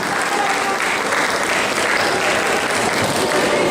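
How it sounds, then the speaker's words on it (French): A crowd at a summer gaming event in Fréjus bursts into loud, dense applause, sustained clapping filling the whole moment. "On peut faire un tonnerre d'applaudissements pour eux"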